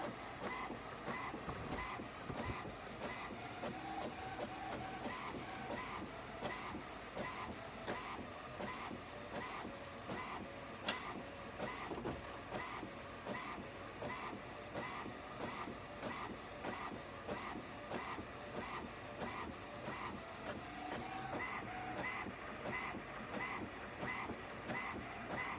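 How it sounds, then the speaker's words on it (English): A home printer printing an image runs steadily with dense mechanical clatter and rhythmic carriage passes, loud and continuous throughout with no talking. "That's my printer."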